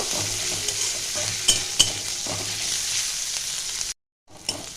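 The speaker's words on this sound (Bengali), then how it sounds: "এই পেঁয়াজটা, রসুন আর আদা খুব ভালো করে আমি ভেজে নেব।" Onion, garlic and ginger sizzle in oil in a pan while a spatula scrapes and stirs with occasional knocks, close and steady; the sound cuts out briefly near the end, then resumes.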